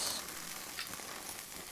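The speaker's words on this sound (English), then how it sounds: "Gonna fry off those ingredients with my shallots." Bay leaves, mace and shallots fry in a pan, a steady bright sizzle with a brief sharper hiss at the start, close and even throughout with no talk.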